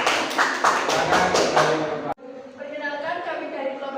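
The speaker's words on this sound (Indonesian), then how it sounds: "Tepuk tangan untuk kelompok 1." Classroom applause for the first student group during an Islamic education lesson, a dense burst of clapping for about two seconds that cuts off abruptly, followed by talking.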